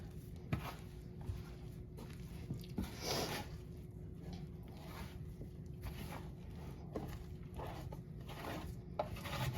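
Warm bread dough being kneaded and mixed by hand for a large homemade batch, giving soft, continuous rubbing and squishing sounds with occasional sticky slaps, fairly quiet and steady throughout.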